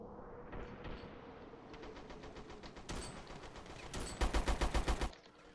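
M3 Grease Gun submachine gun firing in a video game, scattered single shots and short bursts that build into a rapid automatic burst near the end, loud and close, with other game sounds in the background.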